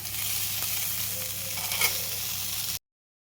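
Cluster beans being stirred into a coconut fry in a pan, with a steady sizzle and soft scraping running throughout, close and fairly loud, ending abruptly.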